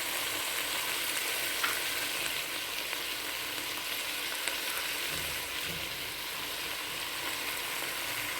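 Tomatoes and coriander fry together in a pan for a chutney, giving a steady, even sizzle that carries on unbroken throughout with no voices.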